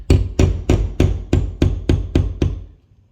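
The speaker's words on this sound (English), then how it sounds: "We found some studs, hammer and nail trick." A hammer drives a nail into a wall stud while hanging kitchen cabinets: nine sharp, evenly spaced blows in quick succession, close and loud, the last few softening before silence.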